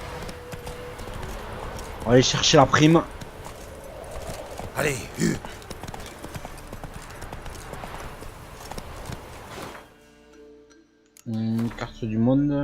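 Horse hooves clip-clop steadily in The Witcher 3 as a rider travels, with someone talking over them in bursts before the scene drops to near silence.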